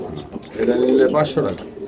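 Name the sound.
pigeons cooing in a market cage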